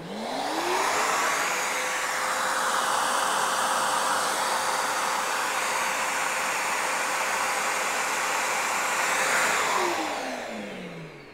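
A Bosch GCT 30-42 vacuum cleaner keeps running for several seconds after being switched off, a steady airy whir with a rising pitch sweep at the start and a falling sweep as it winds down, alone and moderately close.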